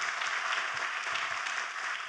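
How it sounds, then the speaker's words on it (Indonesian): A church congregation applauds during a sermon, a steady, even wash of many hands clapping, soft and somewhat distant, with no voices over it. "Tepuk tangannya boleh yang paling meriah buat Tuhan kita."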